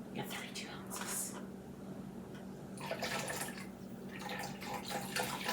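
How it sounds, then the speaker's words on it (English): Chicken broth, about 32 ounces, poured into a slow cooker for chicken and dumplings, giving a soft splashing trickle in bursts under quiet talking. "we're going to add some chicken stock, chicken broth"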